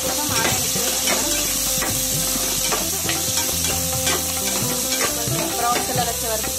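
Sliced onions and green chillies sizzling in hot oil in a pan for goat head curry, a loud close crackling hiss with repeated scraping stirs of a spoon against the pan.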